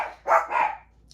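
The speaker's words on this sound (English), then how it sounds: "my dogs are barking, so I'm going to stop this, let them go potty" Two close barks from dogs in a home kitchen, loud and sharp, each lasting a fraction of a second, with a brief faint tail after.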